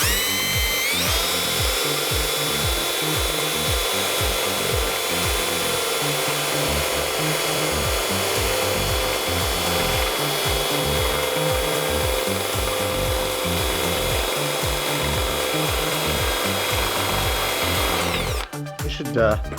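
Continuous loud grinding and whirring of a drill boring holes through a steel frame for a homemade 20-tonne hydraulic press, steady and close, stopping briefly near the end.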